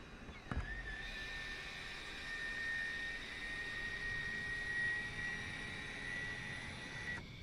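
An F-16 fighter jet engine winding down at shutdown on the ground gives a steady, loud turbine whine with a high ringing tone that holds for several seconds after a sharp start, with no talk.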